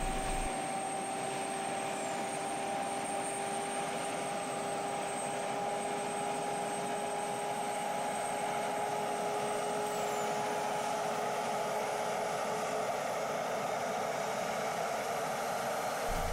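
F-16 fighter jet engines spooling up on the flight line at Kadena Air Base in Japan, a steady loud roar and whine with a high turbine tone, constant and unbroken throughout.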